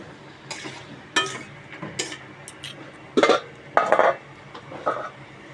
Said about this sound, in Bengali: চর্বিগুলো দিয়ে কিছুটা সময় কষিয়ে নিব।